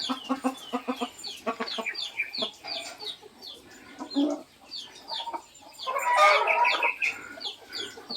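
A flock of fighting-breed gamecocks clucks and squawks busily up close in a farm pen, with overlapping calls and a louder burst of cackling toward the end.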